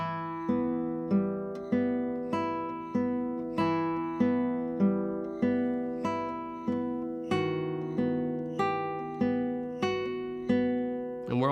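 A classical guitar plays the opening three measures of a gentle waltz, with soft plucked bass notes and chords in a steady, lilting triple rhythm, close and clear with no talking.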